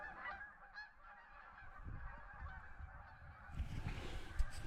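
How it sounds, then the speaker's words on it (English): A flock of geese honking in the open, calls overlapping and getting louder and closer toward the end, with wind noise in the background. "oh, look at the geese."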